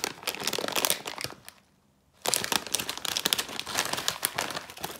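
A foil-lined instant noodle packet crinkles and crackles loudly up close, with dense rustling bursts, a short silent pause in the middle, and then more continuous crumpling.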